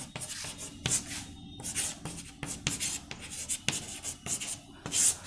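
Chalk or marker strokes on a board during a chemistry lecture, coming as close, irregular bursts of scratchy writing with short pauses between them and no talk.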